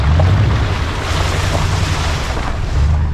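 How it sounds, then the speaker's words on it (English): Wind blows steadily off the Tennessee River where a small creek runs in, a continuous rough roar and low buffeting across the microphone with no voices. "We got the wind blowing in here off this river right here"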